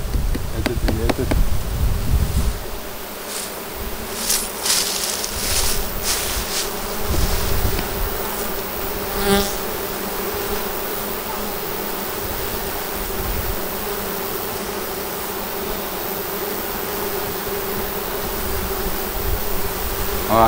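Honey bees swarm and buzz around open beehives in a steady, dense drone that lasts the whole time, loud and close, with a few knocks and handling noises early on and no talking.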